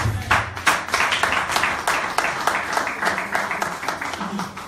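A church congregation applauding loudly, dense rhythmic clapping from many hands that fills the space steadily, with voices briefly heard beneath it.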